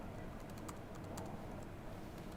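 Someone types quickly on the full-size keyboard of an HP 2133 Mini-Note. The key clicks are soft and rapid and sit faintly under a steady background hiss.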